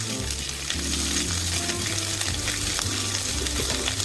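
Onion, capsicum and curry leaves frying in a hot pan for chilli fish, a loud dense sizzle with stirring scrapes throughout, close and continuous, with a low hum underneath and no talking.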